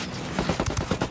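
Rapid gunfire in the video game Ghost Recon Wildlands, a quick string of sharp shots landing roughly every tenth of a second at close range.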